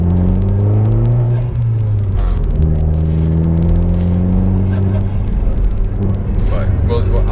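Catless Dodge Dart 1.4T turbo engine exhaust rumbling steadily, with rising and falling revs and a continuous deep drone throughout, loud and close.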